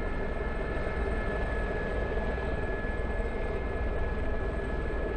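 A Gazelle helicopter taking off in the DCS combat flight simulator: a steady, unbroken engine and rotor drone with a faint high whine, constant in loudness throughout and heard alone.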